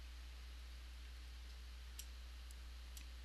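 Computer mouse clicks, a few light isolated taps spread sparsely over a faint steady hum, with no talking.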